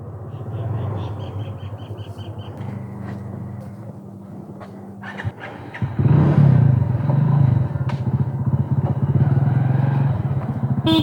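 Steady engine drone of a Hero Honda CD Deluxe motorcycle being ridden, with a clattering rumble that grows louder and rougher midway as the ride continues, close and continuous.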